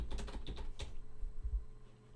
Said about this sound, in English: Typing, bro.